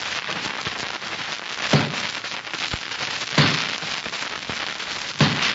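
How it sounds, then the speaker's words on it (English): An axe chops a tree in the Kunlun Mountains as an old-time radio sound effect: heavy thuds land roughly every second and a half over a constant crackling hiss. "That's the sound of an axe chopping a tree in the Kunlun Mountains."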